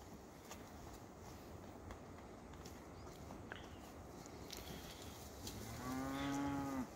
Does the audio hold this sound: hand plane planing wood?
no